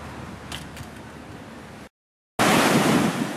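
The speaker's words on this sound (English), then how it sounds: "I'm in the Rincón Beach now." Ocean surf at Rincón Beach, a sandy inlet beach in Puerto Rico, rolls as a steady broadband wash with wind buffeting the microphone, cutting out briefly before returning louder and closer.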